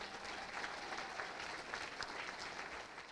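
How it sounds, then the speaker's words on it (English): A dense, steady wash of crowd applause fills a State of the City address in Rochester Hills as the audience welcomes a new resident family. It sounds fairly distant and even, with no talking over it. "Round of applause"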